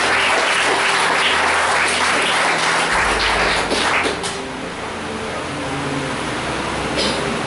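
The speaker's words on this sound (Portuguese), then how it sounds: "Pode aplaudir o Senhor e glorificar o nome dele." Steady applause from a church congregation fills the space, loud and continuous, thinning slightly toward the end.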